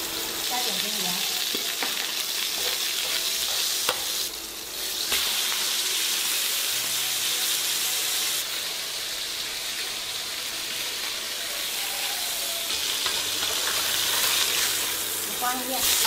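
Fish or vegetables stir-frying in a hot wok for a red-braised fish meal, a steady close sizzle running throughout with occasional scraping of the spatula.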